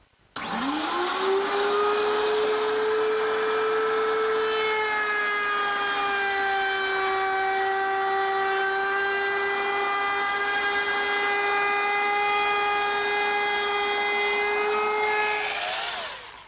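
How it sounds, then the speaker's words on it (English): A router mounted under a router table spins a 3/8-inch radius roundover bit with a pilot bearing, a loud steady high whine that starts up, holds for about fifteen seconds with a slight pitch drop under load, then winds down. "this router is mounted underneath a router table, and I've set it up with a 3/8-inch radius roundover bit with a pilot bearing"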